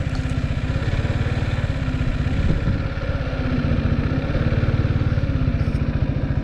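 Motorbike engine idling steadily in first gear on a hill, a close, even low chugging pulse with a slight rise in revs partway through; no talk.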